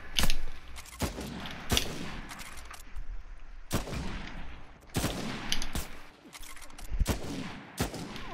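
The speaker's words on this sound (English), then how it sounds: "I'm getting shot through the wall by that project" Gunfire from the video game Project Zero: loud, sharp single shots and short bursts at irregular intervals, with quieter clatter and movement between them.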